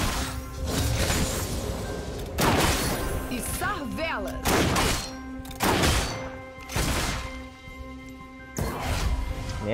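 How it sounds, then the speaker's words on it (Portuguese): Bomb explosions from a champion's ultimate in the League of Legends video game, a series of booming blasts with whooshes and crackles, repeating every second or so over continuous game sound. "Isso é a ult dele, entendeu? A bolinha, a bombinha."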